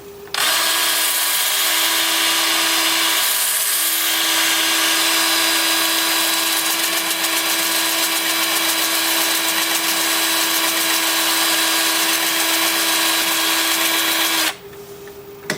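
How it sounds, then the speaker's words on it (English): Wood lathe spins forward at 450 during sanding of a turned piece, a steady close hum with a constant tonal whine and a broad gritty hiss, running unbroken for about fourteen seconds before cutting off, with no talking. "So I'm spinning the lathe faster than normal, forward at 450."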